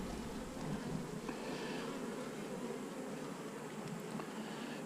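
Honey bees buzz around an open hive on an overcast day, a steady, faint hum that fills the whole stretch with no talk.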